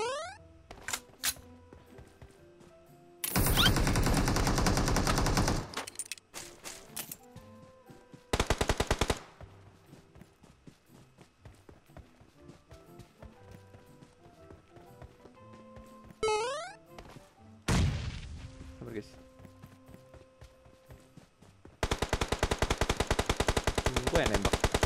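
Gunfire in PUBG Mobile, several bursts of loud automatic shots separated by quieter stretches of game sounds and occasional single shots.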